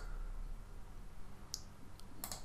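A few crisp computer mouse clicks sound against a low background hiss as someone clicks through a software interface, with a single click first, then a faint one, then a quick double click near the end.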